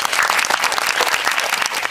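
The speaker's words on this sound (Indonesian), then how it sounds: "Tepuk tangan dong" Podcast studio audience clapping, a brisk, dense burst of applause close to the microphone, continuous and lively with no speech over it.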